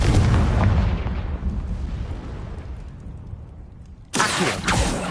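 A Confringo fire spell blasts in Hogwarts Legacy with a loud booming explosion that rumbles and slowly fades over several seconds, followed by a sharp new burst of crackling impacts.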